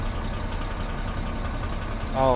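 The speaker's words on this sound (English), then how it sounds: "it's a 50 horse Isuzu diesel." A 50-horsepower Isuzu diesel engine idles steadily at close range, a low, even rumble with a brief rise in pitch near the end.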